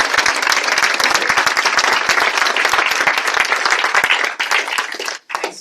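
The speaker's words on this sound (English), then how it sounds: "Let's give our young people a round of applause." Audience in a crowded room at a Camden community event applauds Woodrow Wilson ROTC cadets, with dense, sustained clapping from many hands that holds steady and then tapers at the very end.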